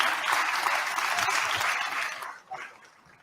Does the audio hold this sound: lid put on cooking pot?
no